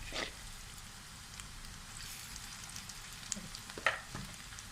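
Bitter gourd (karela) pakoda frying in oil, a steady close sizzle with occasional louder pops and crackles, and no speech over it.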